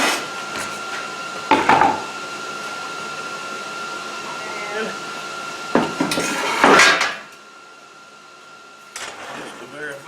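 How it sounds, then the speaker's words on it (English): Wire brush scrubbing a weld on a forged metal garden bench, in short harsh scraping bursts with a steady background hum, while someone talks. "So we'll clean it up with a wire brush"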